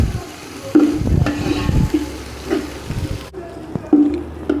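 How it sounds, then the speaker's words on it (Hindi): Ginger and garlic fry and get stirred in a pan for a Hindi-style chana pulao, with steady sizzling crackle and repeated scraping stir strokes close by, the sizzle quieting briefly near the end. "अदरक लहसुन भून लिया"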